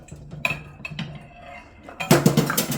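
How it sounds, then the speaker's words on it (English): Batter is scooped into a donut hole pan for cinnamon apple donut holes, heard as scattered close clinks and taps of a utensil on metal, ending in a louder burst of clattering. "Then you just need to fill your muffin tin or your donut hole pan."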